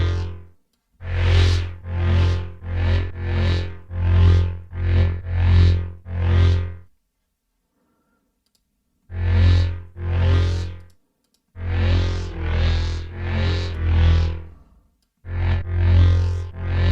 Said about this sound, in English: Maybe something different, like a pink noise.